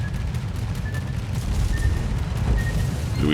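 A torpedo slams into a warship in World of Warships, with a dense, sustained low rumble of explosions and booming impacts throughout.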